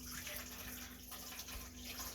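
Water pours steadily into a bowl for bread dough, a soft continuous splashing trickle, quiet and close with a faint background hum.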